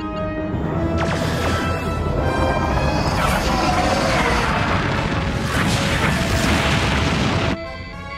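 A full spread of photon torpedoes fires in a space battle, loud booming blasts and rumbling bursts layered over a dense sci-fi soundscape, ending abruptly.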